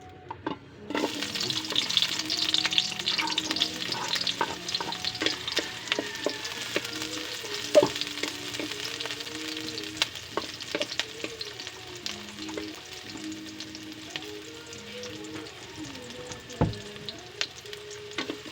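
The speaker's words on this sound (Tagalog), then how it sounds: "igisa na natin ang sibuyas at bawang mainit na siya" Onion and garlic sizzle and crackle in a hot pan, a steady frying hiss broken by occasional clinks and stirring sounds, with a faint tune playing in the background.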